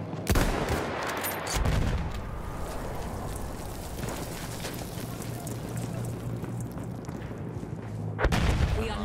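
A shotgun firing a slug in the first-person shooter Battlefield 1: sharp, loud shot reports at the start and near the end, set over continuous rumbling battlefield noise and distant gunfire.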